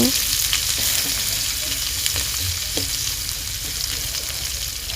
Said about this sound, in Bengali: এখন আমি পেঁয়াজ কুচিগুলো দিয়ে দিচ্ছি পেঁয়াজ কুচি মরিচগুলো দিয়ে দেব